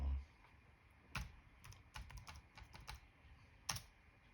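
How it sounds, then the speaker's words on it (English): Quiet typing on a Dell Latitude E7440 laptop keyboard, a loose run of individual key clicks and a few sharper taps, close and soft, with no voices. "Oh, keyboard feels good."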